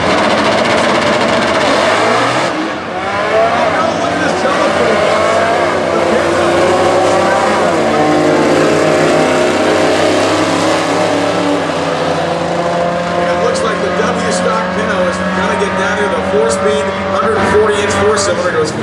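A 1970 Pontiac Firebird factory stock drag race car accelerates hard down the strip, a loud engine roar climbing through gears with a rising pitch, while an announcer talks over it throughout.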